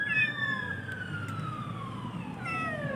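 A kitten meows from inside a drain hole, giving long, drawn-out rising and falling cries, one sustained call followed by another near the end, loud and close over a low background rumble.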